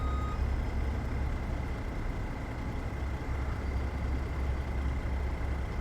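A truck maneuvers on a UK farm map in Farming Simulator 22, giving a steady low engine drone with a continuous high reversing-style beep running throughout.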